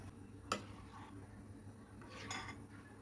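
Egg beaten in a bowl for sweet egg toast: one sharp utensil clink against the bowl, then faint scraping and stirring, quiet and close, with no talking.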